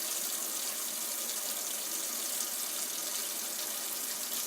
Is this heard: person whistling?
no